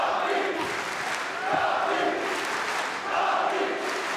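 A fight-event crowd in an arena cheers and roars continuously, a dense wash of voices that swells in waves throughout.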